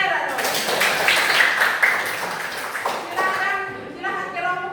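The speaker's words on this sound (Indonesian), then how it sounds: "tepuk tangan untuk saya dong" A classroom of students claps for their teacher, a burst of scattered applause lasting a couple of seconds before a voice begins talking over the fading claps.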